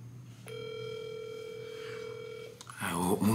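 A phone call to a mother in Jamaica gives a single steady ringing tone for about two seconds, then it cuts off as a burst of voices and music takes over.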